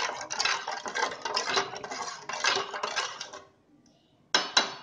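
A spoon stirs ginger masala tea ingredients in a pot, giving repeated close metallic clinks and scrapes for a few seconds, a short pause, then two sharp taps against the rim.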